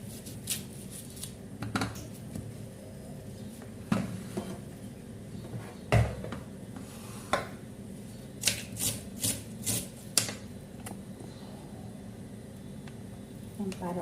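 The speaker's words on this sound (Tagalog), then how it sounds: "Tapos itong ating sibuyas, hihiwain natin" A knife chops an onion into small pieces on a cutting board, giving sharp, irregular taps spread across the stretch, sparse at first and then clustering into quick runs, with a faint room hum underneath.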